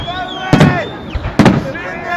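New Year fireworks go off in Tomsk, Russia, as two sharp, loud bursts about a second apart, each with a crackling tail, over a bed of crowd noise and whistling.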